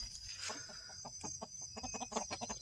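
Chickens clucking softly inside a coop, a string of short, close, irregular clucks over a faint steady high-pitched background tone.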